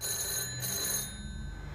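A telephone rings insistently in a tense domestic drama scene, a bright, steady electronic bell trill that sounds close and loud with no one talking over it.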